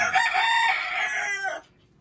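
A Roundhead gamecock crows loudly and close by, one long harmonic call lasting about a second and a half before cutting off into quiet.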